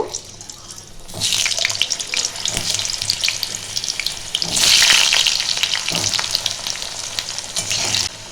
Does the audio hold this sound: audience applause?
no